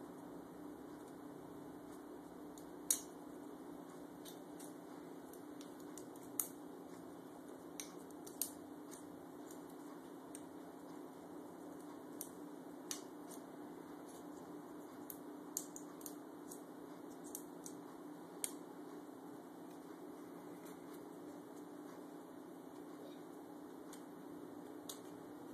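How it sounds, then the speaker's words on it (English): Scissors snipping small notches into a thin aluminum pop can while building an alcohol stove, a series of faint, sparse clicks and snips scattered over a steady low background hum. "you'll just cut a couple little notches."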